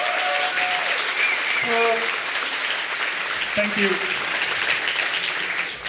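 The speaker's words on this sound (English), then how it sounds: "please give him a warm applause for that" An audience at a Rails developer conference lightning talk gives a steady wash of applause; a voice speaks briefly over the clapping near the start.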